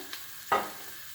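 Hot water poured into a frying pan of minced-meat köfte dish, a short burst of sizzling hiss that rises sharply then fades, preceded by a faint brief stir, close and alone with no talk.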